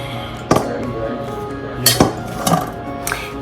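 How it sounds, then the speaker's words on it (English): A knife strikes a chopping board in a few sharp, separate knocks while tomatoes and capsicum are cut for a salad, with a steady kitchen hum under them and no voices. "And I'm now chopping the tomatoes and the capsicum"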